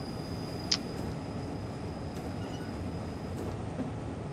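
Train running on rails in Train Simulator 2016, on a stormy run to Bonn: a steady, continuous rumble of rolling wheels and carriage noise, with a brief high tone near the start.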